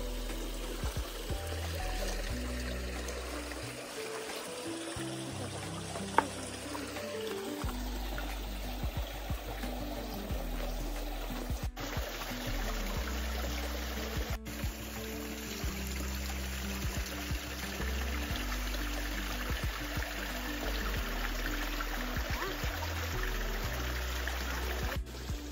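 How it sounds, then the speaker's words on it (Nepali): A small river stream flows steadily throughout, a continuous close watery rush and trickle with no talking, in an outdoor setting during a family fishing trip. "यो चाहिँ सानो खोला हो"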